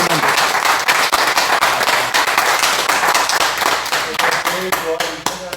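A church congregation claps along in rhythm during a Sunday worship service, dense repeated hand claps mixed with singing and voices throughout.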